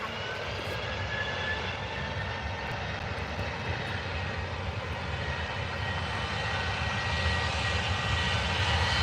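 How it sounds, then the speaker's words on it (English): Turkish Airlines airliner landing at Manchester Airport, a steady broad engine roar that holds throughout and swells slightly toward the end, moderately distant, with no talking. "Turkish Airlines just landed."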